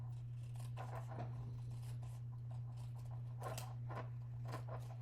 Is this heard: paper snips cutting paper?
yes